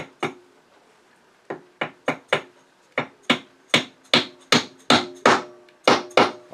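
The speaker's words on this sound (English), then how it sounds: "So we'll just pound this thing in there and see what happens." A half-inch insert is pounded into the hole of a wooden knob with about a dozen sharp, close hammer strikes, the first ones spaced out, then coming in a quicker, steady rhythm.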